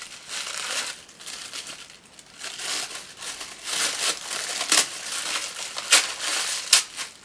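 Tissue paper crinkles and rustles as an item is unwrapped, with irregular bursts of crisp crackling that grow louder toward the end, close up and without speech.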